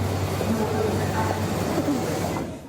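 A London Underground train rumbles through an underground station with a loud, steady roar and a thin metallic squeal on top, then fades slightly near the end; faint voices may sit under the noise.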